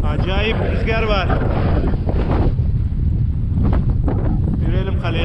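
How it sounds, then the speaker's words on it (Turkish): Strong wind blows outdoors on a walk toward a hillside castle in Artvin, Turkey, roaring and buffeting the microphone continuously while someone talks over it. "Acayip rüzgar var."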